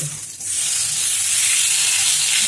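Dough frying on a lightly oiled pan, giving a steady bright sizzle that swells after a brief dip and then holds loud and constant, with no voices.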